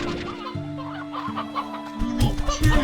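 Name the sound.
rooster clucking in video game Slime Rancher 2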